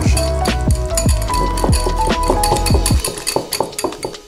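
A utensil stirring red food coloring into a mixture in a bowl, with rapid repeated clinking and scraping strokes, loud and close, loosening toward the end.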